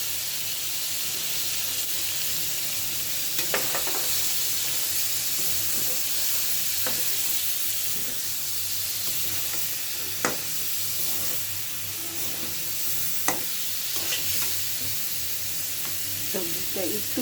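Vegetables (potato, peas, tomato) sizzle steadily in hot spiced oil in a pan, a continuous close frying hiss with occasional sharp pops and stirring clicks throughout.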